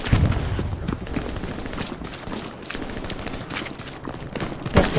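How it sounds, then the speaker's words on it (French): Enemy soldiers' gunfire in the video game Hell Let Loose during an infantry squad battle, a fusillade of rifle and machine-gun shots cracking at mid distance, with a louder burst near the end. "Attention, ça nous tire."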